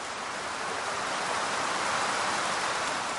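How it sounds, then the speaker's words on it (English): Steady rain falls outdoors, a dense, even hiss that holds at the same loudness for a few seconds with no voices. "It's just started to rain"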